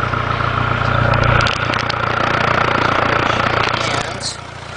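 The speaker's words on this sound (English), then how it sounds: "I've adjusted the carburetor so that it runs overly rich at idle" A carbureted engine tuned to run overly rich idles close by with a steady, loud mid-range drone, its low rumble dropping slightly partway through, with faint clicks above it.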